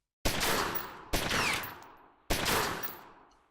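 Gunfire in the video game Omerta: City of Gangsters: three loud, close shots or short bursts, each with a sharp crack that fades into a long reverberant tail, with no talk.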